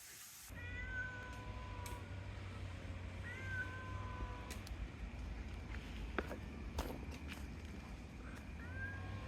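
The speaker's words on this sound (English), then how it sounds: "Mountain cat, aren't you?" A cat meows several times in short rising calls, fairly clear against a soft background hiss with a few faint clicks.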